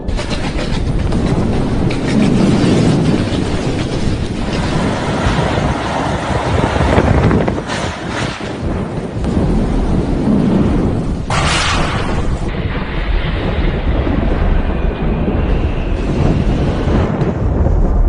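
Loud, roaring wind from Super Cyclone Amphan in West Bengal blasts continuously with heavy rumbling, briefly easing before surging again, dense and close.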